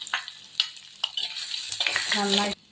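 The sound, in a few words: small chillies frying in oil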